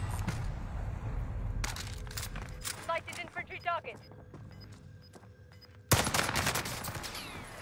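Rapid bursts of Fortnite gunfire crackle at the start and again in a loud volley near the end, with a player talking in between and quieter game sounds under the speech.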